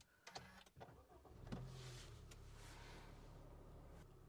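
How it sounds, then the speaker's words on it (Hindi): A 5th-generation Honda City starts up with the AC switched off. A few faint clicks lead into the engine cranking and catching, then a quiet, steady idle hum settles inside the cabin. "अब गाड़ी को स्टार्ट करके आपको बताते हैं कि अंदर जो है वो कैबिन साउंड वगैरह कैसी आती है"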